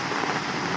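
Steady rain falling at a forest camping ground, a dense, even hiss of drops with no voices.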